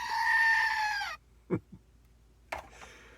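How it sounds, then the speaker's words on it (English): A goat lets out one long, loud, strained scream that cuts off abruptly, followed by a few faint knocks and rustles. "How's the goat? The screaming goat."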